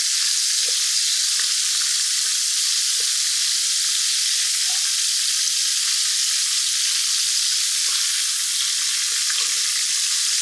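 Chicken fried steak frying in a pan of oil, a loud, steady, dense sizzle that holds unbroken throughout, with occasional faint pops and no talking.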